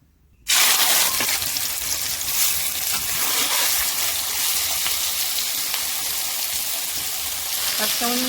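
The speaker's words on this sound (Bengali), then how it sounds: "ভাপিয়ে রাখা কচুলতি করে এবার তেলের উপর ভেজে নেব" Steamed taro stolons hit hot oil with an abrupt, loud sizzle that settles into a steady, even frying hiss, with a brief voice at the very end.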